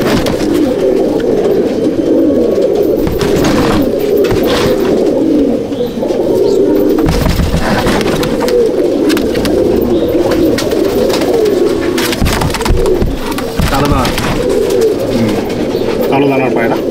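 Many pigeons coo steadily in a Chennai/Andhra Madrasi pigeon loft in Howrah, a dense overlapping burble of rolling calls close by, with bursts of wing flutter and someone talking over them.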